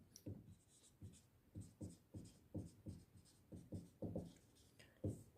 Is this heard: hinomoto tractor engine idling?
no